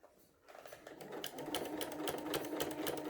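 A sewing machine with a walking foot starts up after a quiet moment and stitches through a quilt at a quick, even pace, a close rapid mechanical clatter that holds steady to the end.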